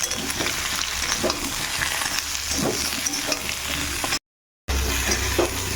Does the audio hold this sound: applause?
no